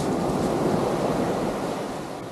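Sea waves wash onto the shore at Sestri, a steady broad rushing roar that fades slightly, with no voices heard.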